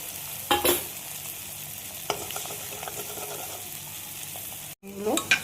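An egg frying in hot oil in the cleared middle of a pan of mixed dal, with a continuous soft sizzle, a brief crackling burst at the start and a couple of clinks near the end.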